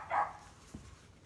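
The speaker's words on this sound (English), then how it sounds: "there are dogs getting into fights outside of this" Dogs fight outside a shed, giving one muffled bark and then a brief low yelp, both faint and distant with no talking.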